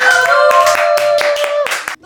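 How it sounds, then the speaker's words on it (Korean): Audience clapping breaks out in a studio as a Korean host introduces a diet segment, sharp claps repeating over a steady sung or hummed tone, loud and close, ending in a short pause. "여기서 박수!"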